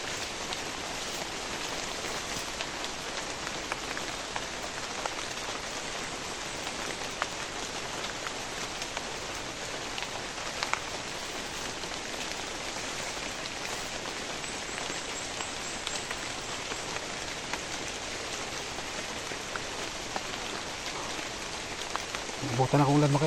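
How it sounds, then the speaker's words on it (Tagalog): Steady rain falling outdoors, a dense, even hiss of drops hitting surfaces that lasts the whole stretch, close and alone, with a short burst of other noise at the very end. "Nabutan ako ulan mga idol."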